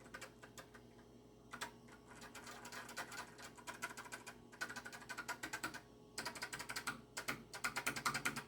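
Repeated key presses on a finicky, worn NEC PC-8801mkIIFR computer keyboard give close, dense clacking in uneven bursts and clusters, with short pauses between, over a low steady hum.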